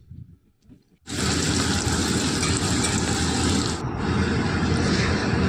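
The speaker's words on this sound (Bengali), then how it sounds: "আলুটা একটু ভেজে রাখছি।" Potatoes drop into hot oil in a home kitchen and break into a loud, steady hiss and crackle of frying. The sizzle starts suddenly and holds close and constant, with no talking over it.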